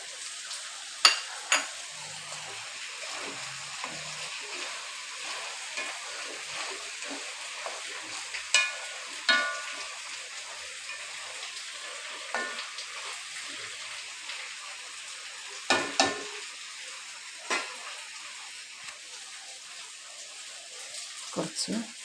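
Ground coconut paste with green chilli, cumin and curry leaves being stirred into a pot of aviyal, a steady wet scraping and squelching with soft sizzle and occasional sharper clinks of the spoon against the vessel.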